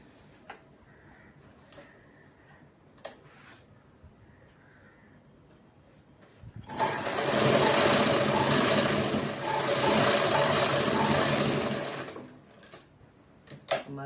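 A sewing machine stitching a straight line of fabric while a false border is attached to a saree: a steady, loud whirring run of about six seconds, with a few crow caws in the background before and after.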